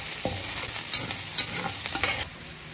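Garlic sautés in a pan for buttered shrimp, with a loud, close sizzle and repeated spatula scrapes and stirs that suddenly drop to a quieter hiss near the end.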